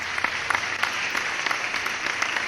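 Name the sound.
applause sound effect played on a Stardew Valley livestream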